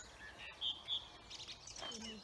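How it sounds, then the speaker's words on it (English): A song thrush sings in an April dawn chorus, giving a couple of short, bright whistled phrases that stand out over a soft bed of other distant birds. "But the song thrushes are singing quite well this morning now."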